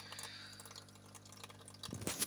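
Faint trickling and dripping of water running back through a tube into an aquarium on a live-food fish farm, quiet and soft, growing a little louder and splashier near the end.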